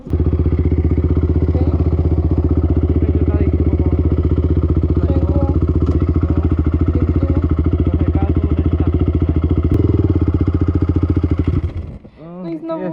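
A quad bike engine runs loud and close with a steady throttled drone and rattling clatter, holding revs for most of the stretch before dropping off near the end.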